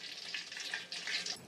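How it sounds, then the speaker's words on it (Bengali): Chicken popcorn deep-fries in hot oil with a brief, steady bubbling hiss and fizz, close and moderately quiet, no voices. "ঠিক এইভাবে করে সমস্ত পপকর্নগুলো আমি ভেজে নেব।"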